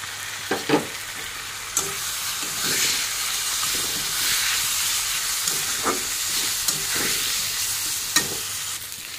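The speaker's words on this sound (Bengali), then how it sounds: "ভালো করে ভেজে নিই।" Boiled boal fish roe frying in a pan with ground spices: a soft, steady sizzle and hiss broken by sharp, scattered clicks and scrapes of stirring, with no talking.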